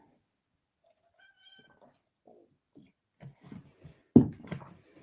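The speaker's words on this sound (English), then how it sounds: "I just heard you meow." A cat meows a few times, faint and a short way off, followed by a louder burst of sound near the end.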